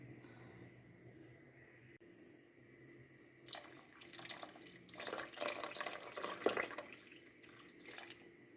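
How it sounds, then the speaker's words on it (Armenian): After a few quiet seconds, water splashes and pours into a pot of bean soup, swelling and fluctuating in bursts before easing off again. "Մի փոքր էլ ջուր լցնեմ, որովհետև ջուրը եռալու ընթացքում բոլորը գոլորշիացավ։"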